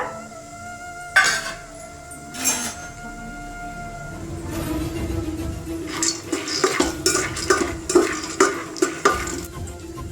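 Peanuts frying in hot oil for Davanagere crispy mandakki, with a steady sizzle under irregular metal clinks and scrapes of stirring in the pan, growing busier in the second half; no talking.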